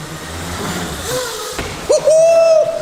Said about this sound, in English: Was that a little throttle in the air?